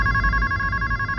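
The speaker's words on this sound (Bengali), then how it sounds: "দেখতো সুন্দরীকে ফোন করলো" A telephone ringing with an incoming call in a village home, a bright electronic ringtone of steady tonal pulses, close and clear, heard alone over a low background hum.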